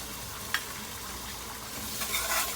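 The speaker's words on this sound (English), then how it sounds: "Let's fry a little bit with our seasoning." Curry powder seasoning fries in a pot for Trinidad-style banana and fig talkari, a quiet, steady sizzle with one small clink near the start.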